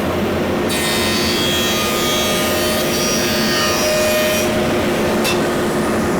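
A hand saw rasps back and forth through a wooden workpiece during stool building, a loud, rough, continuous scraping that stops abruptly near the end of the cut.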